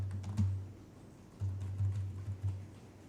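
Faint keystrokes and shortcut presses on a computer keyboard while working in CAD software, scattered soft clicks over a low steady hum.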